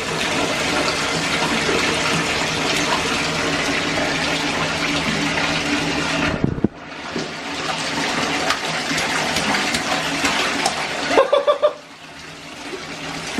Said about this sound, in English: So Izzy got him this little fountain for Christmas.